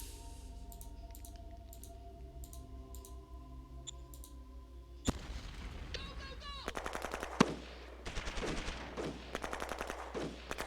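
Rapid machine-gun style bursts and clicking shots from a unit bombardment in the strategy game Shadow Empire, erupting abruptly after quieter ambient game music, loud and repeated in several volleys.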